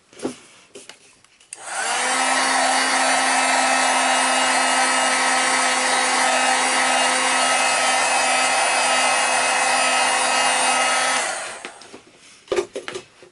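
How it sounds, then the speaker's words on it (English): A KWarner heat tool roars loudly and steadily for about ten seconds, a constant blowing hiss, then cuts off, leaving quiet handling sounds. "Just going to zap it with the heat tool."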